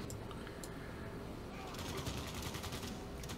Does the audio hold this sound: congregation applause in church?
no